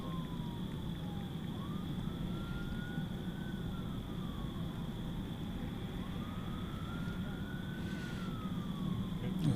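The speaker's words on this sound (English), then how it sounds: "I'm still hearing the sirens." Emergency vehicle sirens near DFW Airport at night wail in slow rising and falling sweeps, distant and fairly faint over a steady background drone, with a constant high electronic tone also present.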